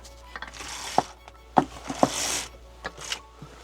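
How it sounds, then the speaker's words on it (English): A few sharp clicks and rattling slides of curtain rings along a rail, with soft rustling of fabric between them, close by. "So I'm going to close the curtains,"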